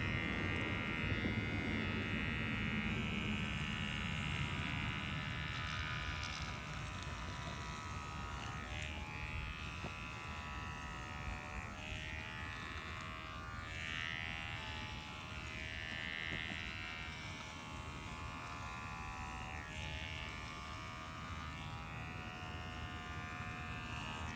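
Electric clippers shaving a dog's coat, a steady close buzzing drone that runs without a break for over twenty seconds, its pitch wavering slightly as the blades glide through the fur, with no talking.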